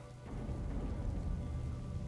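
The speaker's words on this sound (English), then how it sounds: "Ever since this rain started, I just don't feel like doing anything." Rain falls in the World of Warcraft game world as a steady, dense hiss of drops with a low rumbling undertone, swelling in after a brief quieter start and holding evenly with no talking.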